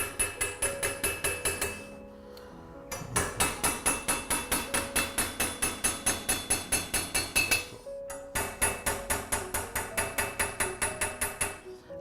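Hardened, tempered steel chasing tools are struck with a hammer on bronze, giving rapid, steady metallic taps with a ringing edge. Two short pauses break a dense rhythm of close, loud blows.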